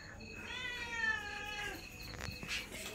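A hungry cat meows insistently for food, one long drawn-out wailing meow followed by shorter calls, close and clear over faint background sounds.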